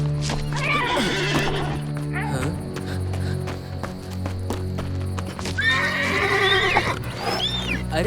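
A horse whinnies loudly twice, once near the start and again near the end, with hoof clip-clops and rustling movement in between, under a constant low background hum.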